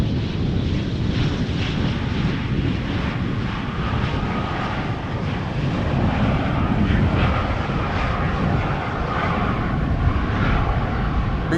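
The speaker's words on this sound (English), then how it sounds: "KLM flight 916 arriving from Southampton. It's an Embraer 190." A 15-year-old KLM Embraer 190 jet arriving at Schiphol roars steadily, a broad continuous engine rumble and wash with some wind buffeting, sustained throughout.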